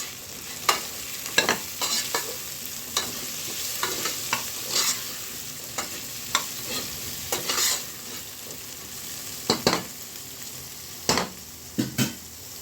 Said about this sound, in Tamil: இந்த கேரட்டையும் நம்ம சேர்த்துடலாம். அதையும் நம்ம வதக்கிடலாம்.